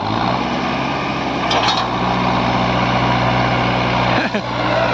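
Tractor engine labouring in low gear while pulling a 9x9 harrow through a field, a loud steady drone with a constant throb, brief shifts in tone midway.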